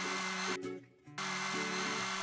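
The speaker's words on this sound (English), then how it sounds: "Let's clean up the edges using a tool." A whirring power tool grinds down rough weld-hole edges on a ball crane in a repair game, two steady bursts of buzzing separated by a brief pause, loud and alone.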